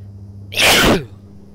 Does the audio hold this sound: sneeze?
yes